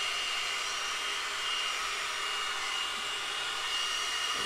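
Soleil Professional blowout brush running on its air setting gives a steady, even whoosh of blowing air, close and continuous with no talking.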